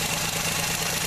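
A 1960-80 Mopar slant six engine idles steadily up close, its solid lifters giving a constant, even ticking chatter over the low rumble, with no voices.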